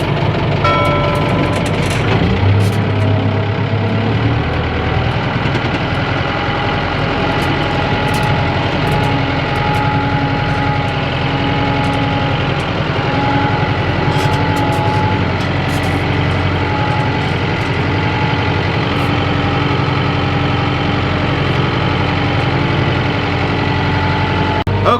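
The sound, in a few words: tractor engine starting and idling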